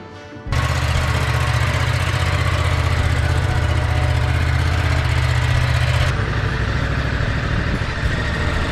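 A Ducati motorcycle engine starts up and runs steadily with a loud, deep, continuous drone up close, easing slightly in level toward the end.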